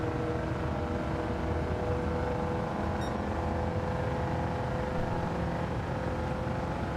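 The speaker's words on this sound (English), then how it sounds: "It feels like it's absolutely revving its guts out." Engine noise from a car in the Gran Turismo 7 racing game, a steady dense droning roar held at high revs with no letup, loud and continuous throughout.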